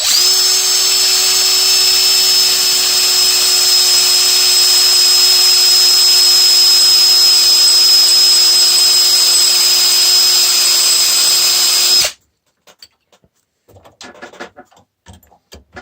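A steady, loud power drill whines continuously for about twelve seconds drilling through metal on a Ford F-150 part, then cuts off abruptly, leaving faint clicks and handling noises.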